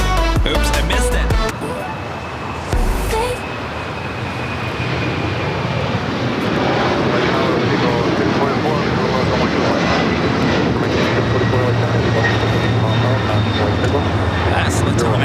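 A LATAM Airlines Boeing 767-300ER jet at LAX builds into a loud, broad engine roar that swells and holds for most of the stretch after a short spoken start.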